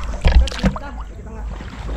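A boat moves on the water with a low rumbling hum, wind buffeting the microphone and a few brief splashy bursts.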